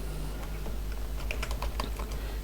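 Rapid keystrokes clatter on a computer keyboard as a headline is typed, close and crisp, with irregular bursts of taps over a steady low background hum.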